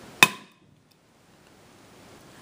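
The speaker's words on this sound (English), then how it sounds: "if you hit a small piece of iron pyrite with a hammer" A hammer strikes a small piece of iron pyrite in one sharp, bright crack near the start, ringing out briefly before near silence.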